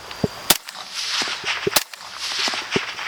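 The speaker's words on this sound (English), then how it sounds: "Alright, let's put some rounds down range." A suppressed retro carbine built in the style of the Gordon Carbine, fitted with an OCM5 suppressor, fires repeated muffled shots outdoors. The sharp, fairly quiet reports come at an uneven pace over a steady background hiss.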